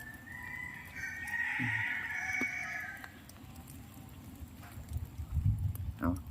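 A rooster crows once at middling distance, a drawn-out call over a steady outdoor rumble, with someone talking briefly afterward.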